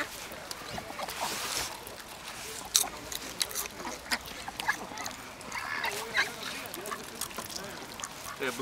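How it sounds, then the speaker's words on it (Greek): Ducks being fed at Lake Beletsi quack in scattered bursts amid background chatter and general outdoor noise. "Κοίτα πώς είναι αυτή η πάπια."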